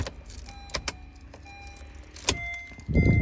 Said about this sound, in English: So now I'm about to release the ignition key from the rotary type